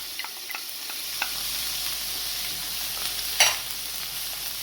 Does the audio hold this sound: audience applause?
no